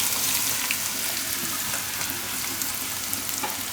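Mango pieces frying in hot oil with fennel seeds and asafoetida, giving a steady, close hiss of sizzling that runs without pause and with no voices.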